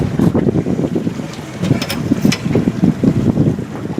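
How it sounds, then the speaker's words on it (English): Strong wind buffets the microphone in steady rumbling gusts on a small fishing boat with its motor off, drifting on a trout lake, with faint water lapping and brief creaks underneath. "We were having a hard time in that wind."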